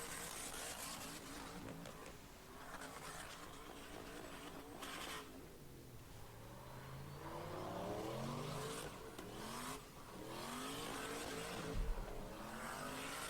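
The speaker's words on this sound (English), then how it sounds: "I envy these people if they have enough money to burn their tyres up" A car does tyre burnouts on a residential street, played back through speakers: a loud, continuous engine roar with rising and falling revs and harsh, noisy tyre screech throughout.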